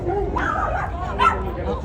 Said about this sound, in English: Uh-oh, dog fight.